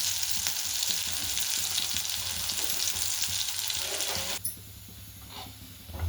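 Spring bitter gourd (karela) shallow-fries slowly in oil on low heat with a dense, close sizzle and light stirring clicks, then drops to a quieter, thinner crackle for the last couple of seconds.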